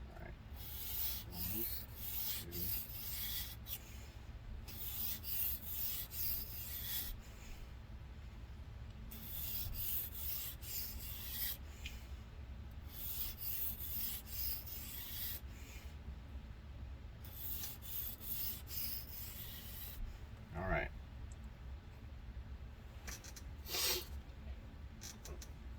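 Repeated rubbing strokes of a knife edge drawn across an EdgePro Apex sharpening stone, grouped in steady bursts of passes with short pauses between, close and moderately loud with no talking.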